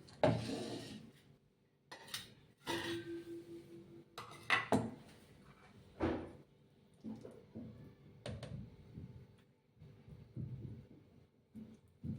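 Hot seven-grain khichdi served from a pot, with scattered clinks and scrapes of a metal spoon against cookware, soft and close, separated by brief pauses.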